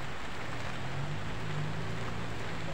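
Rain falling outdoors at night, a steady, even broadband patter close by that continues throughout with no voices.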